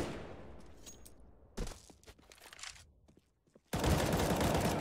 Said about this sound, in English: Shots ring through.